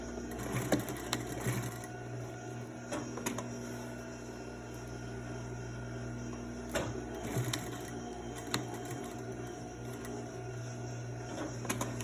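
A sewing machine stitches down the sides of a fabric face mask with a small stitch length, giving a quiet, close mechanical hum punctuated by soft clicks and short irregular bursts over a steady background.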